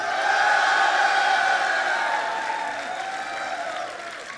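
A crowd applauds and cheers loudly in a steady roar that slowly tapers off toward the end.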